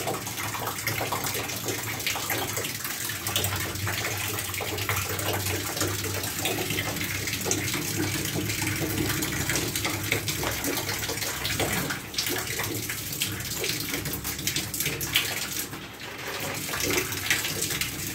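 Hot water rushes steadily through galvanized household plumbing, a loud continuous gush with no break for about eighteen seconds and a brief dip near the end.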